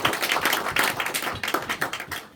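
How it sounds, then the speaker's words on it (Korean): A church congregation claps together in a steady burst of applause for a couple of seconds during a Sunday worship service, with no talking. "하나님께 영광의 박수 올려드리겠습니다."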